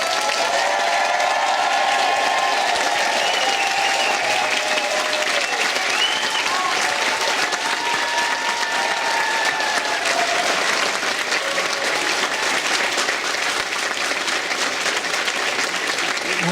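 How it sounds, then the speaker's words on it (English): Thunderous, sustained applause from a large crowd honoring graduates at a college commencement ceremony, dense and steady throughout with faint cheering mixed in. "Let's start the celebrations with a round of thunderous applause for all of our graduates"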